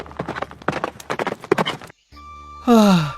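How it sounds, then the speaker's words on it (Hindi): Horses ridden away by three riders in an animated Hindi story, hooves clip-clopping in a quick steady rhythm, followed by a brief pause and then a loud, bright neigh at the end. "तीनों एक एक घोड़े पर बैठकर निकल जाते हैं"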